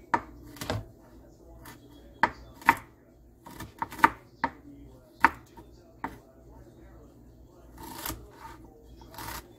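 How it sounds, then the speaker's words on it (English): A knife chops ginger into small pieces on a board, producing sharp, irregular thuds in short bursts with pauses between them, close and distinct over a quiet background. "we're going to just take the ginger, we're going to cut it up to little pieces"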